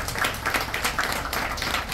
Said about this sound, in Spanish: Se me para, por favor, para que me la aplaudan.